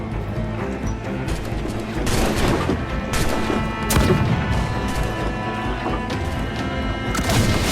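Ship cannon volleys from naval combat in Assassin's Creed Black Flag during a raid on a vessel, heavy booming bursts and crashes layered over a dense, continuous battle din, loud throughout.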